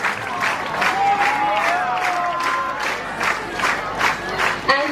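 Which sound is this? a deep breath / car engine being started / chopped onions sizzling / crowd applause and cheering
crowd applause and cheering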